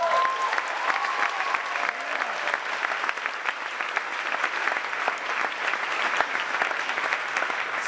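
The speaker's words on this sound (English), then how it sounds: "Now come on, that deserves some applause." An incoming college class at orientation applauds, a dense, continuous wash of clapping from a large crowd filling the hall steadily for several seconds.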